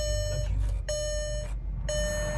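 A Mercedes-Benz R500 4matic chimes at push-button start, giving three clear electronic beeps in an even rhythm, close and fairly quiet over a low cabin hum.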